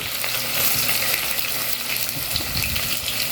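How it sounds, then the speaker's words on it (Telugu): Onions frying in hot oil for chicken biryani, a steady broadband sizzle with scattered crackles and light stirring, close and continuous with no talking. "ఆయిల్ వేడెక్కింది, ఆనియన్ వేసేస్తున్నాను"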